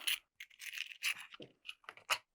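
Mapping pen nibs rattle and scrape as they come out of a small box, close and faint, a string of short metallic clicks and brushing scratches separated by brief silences.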